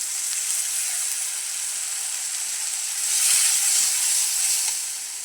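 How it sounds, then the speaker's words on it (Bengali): Turmeric and other spices with ginger-garlic paste sizzle in a pan with a splash of water for chicken and potato curry, a steady close hiss that swells louder midway. "অল্প একটু পানি দিয়ে ভালো করে কষাই নিই।"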